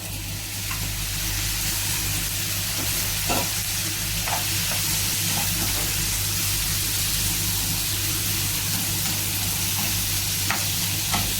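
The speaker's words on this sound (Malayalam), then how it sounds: "ഈ സമയത്ത് നമ്മൾ കഴുകി അരിഞ്ഞു വെച്ചിരിക്കുന്ന സവ ചേർത്ത് കൊടുക്കാം" Chopped onion fries and is stirred in a pan with potatoes and snake gourd for a Kerala-style mezhukkupuratti, giving a steady close sizzle with occasional scraping stir strokes and a low hum beneath.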